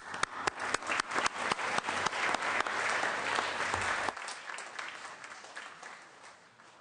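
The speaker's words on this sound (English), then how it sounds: "Let me ask the Senate to join you one more time in welcoming your guests and applauding their life-saving efforts." Senate chamber applause welcoming honored guests, a burst of dense clapping that rings out loudly for several seconds, then thins and fades into scattered claps and room noise.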